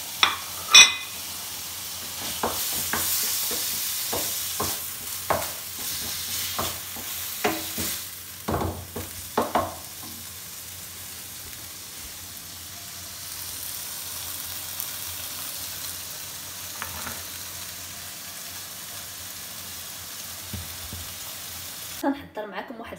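Seasoned minced chicken frying in a pan for pizza, a steady sizzle running throughout with scraping stirs that come often early on and then ease off.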